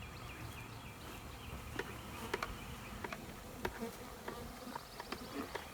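A dense, steady buzzing of a honeybee swarm fills the air as it is collected from branches, with scattered sharp clicks and taps over the continuous drone.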